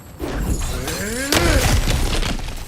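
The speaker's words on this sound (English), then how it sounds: "back to smashing through things for fun and profit" Ground giving way with a loud shattering crash partway through, debris and rumble following, against low game ambience in God of War Ragnarök as cracked earth is smashed through.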